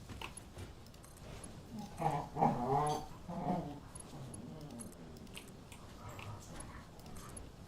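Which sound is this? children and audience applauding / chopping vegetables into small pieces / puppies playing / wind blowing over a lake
puppies playing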